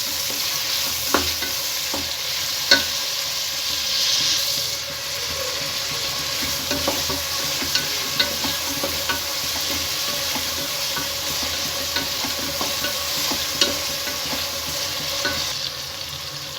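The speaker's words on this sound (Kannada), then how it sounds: "ನೆಕ್ಸ್ಟ್ ಈಗ ಇದನ್ನು ಗೋಲ್ಡನ್ ಬ್ರೌನ್ ಆಗೋ ತನಕ ಫ್ರೈ ಮಾಡ್ಕೋಬೇಕು." Sliced onions with turmeric powder fry in a pan for village-style chicken palav, giving a steady soft sizzle and hiss throughout, broken by occasional scraping clicks of stirring, with no talking over it.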